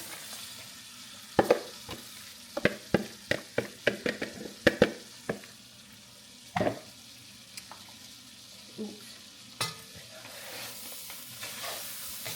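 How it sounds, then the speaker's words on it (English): Chopped vegetables dropped into a hot roux for crawfish stew, then stirred with a steady sizzle and a series of sharp spoon scrapes and clacks against the pot, close and clear. "since my roux are the right color, all of our veggies are chopped up. I'm gonna add them in here"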